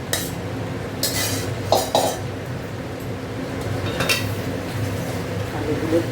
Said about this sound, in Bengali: এবার এই আলুগুলো দিয়ে দেবো।